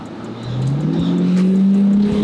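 A Mercedes C140 AMG limousine engine accelerates, its low smooth tone climbing steadily in pitch as the revs build, close and fairly loud with no talk.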